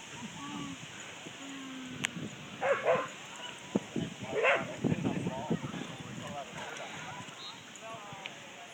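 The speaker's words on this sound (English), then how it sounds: "These little bulldogs down here are really high energy dogs." Little bulldogs at a dog park, yipping and barking in short, scattered bursts at a moderate distance, with people talking quietly under the outdoor ambience.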